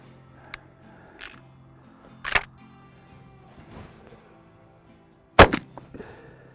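A shotgun fires 3-inch number 4 Bismuth shells through a Carlson mid-range choke tube at a target 30 yards away, giving two sharp, sudden reports several seconds apart against a quiet outdoor background.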